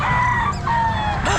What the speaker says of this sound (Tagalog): Ang daming manok mga kabossing.